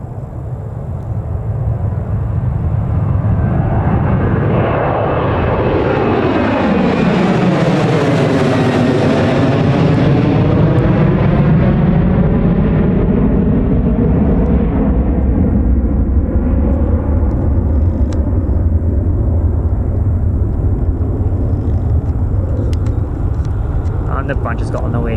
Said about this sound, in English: I think that Emirates is going to be flying overhead very soon, Ali.